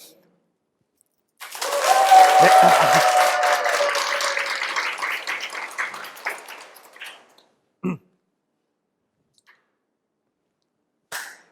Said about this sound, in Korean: 박수 한번 좀 크게 쳐주세요